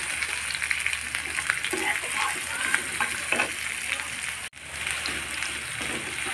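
Chicken coated in spice paste sizzles and fries in a pan on a tawa, with a steady crackling hiss and occasional scraping stirs close by.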